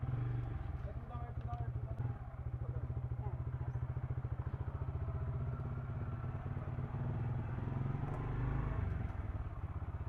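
A bike taxi motorcycle rides through Kolkata streets, its engine a steady close rumble with road clatter throughout, while a person talks over it.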